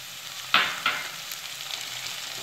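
Tomatoes going into a pan of fried onions, two sharp bursts of sizzle as they hit the hot oil, then a quieter steady frying hiss.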